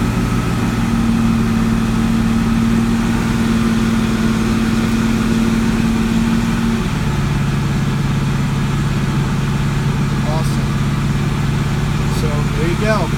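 A 1967 Ford Mustang with electronic ignition idles steadily on its own after its first start in a week, a continuous close engine drone whose pitch drops and settles partway through as the throttle is released, with voices talking over it.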